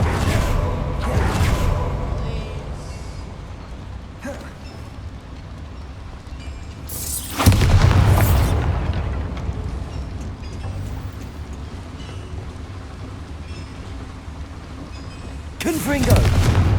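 In Hogwarts Legacy, Bombarda explosion spells go off as booming blasts, a heavy one in the middle and another at the end, over a continuous game background rumble.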